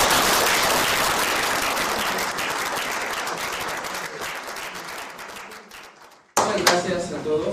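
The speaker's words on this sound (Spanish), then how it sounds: "yo pido un aplauso para María Carlos" Steady audience applause at a conference on violence against women and criminal law, a dense wash of clapping that slowly thins and dips before a fresh louder burst returns near the end.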